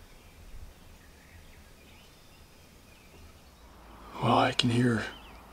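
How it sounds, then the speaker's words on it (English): Turkeys or other birds calling from a hillside across a road on Pennsylvania's spring turkey opener, heard as one brief, fairly near burst of loud calls with a sharp click in the middle, after several seconds of quiet outdoor background. "I can hear a couple birds just hammering over on the other side of the road over here up on the hill"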